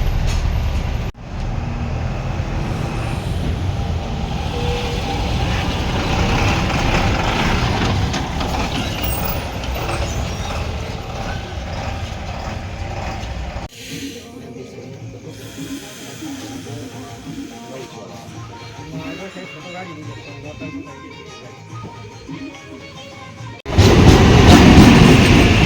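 An empty 5:20 local train bound for Basirhat rumbles and hisses loudly past on a foggy pre-dawn line, the roar holding steady before dropping to a quieter rolling rumble and then surging loud again at the end.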